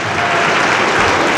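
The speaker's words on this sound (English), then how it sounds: "Let's give her a round of applause" Audience applause at the New Mexico State Legislature's Indian Day in 2019, a steady, dense clapping from a large crowd that fills the whole moment without pause.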